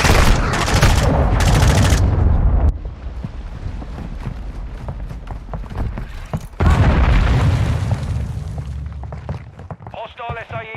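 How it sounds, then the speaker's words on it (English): Cruise missile explosion in Modern Warfare II: loud booming blasts and bursts of gunfire, a quieter rumbling stretch, then another heavy blast, with a brief spoken alert voice at the close. "Hostile cruise missile incoming."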